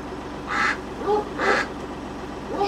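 A duck quacks three times in a slow, even rhythm, nearby and fairly loud over a steady outdoor hiss.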